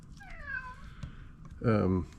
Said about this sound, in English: Cat, what are you talking about?